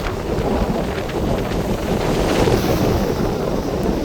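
Strong wind roars steadily against the microphone on a coast during a storm with rain, a dense rushing noise with gusty swells and no voices.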